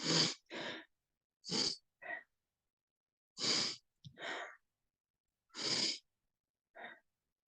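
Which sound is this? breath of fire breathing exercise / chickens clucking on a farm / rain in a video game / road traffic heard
breath of fire breathing exercise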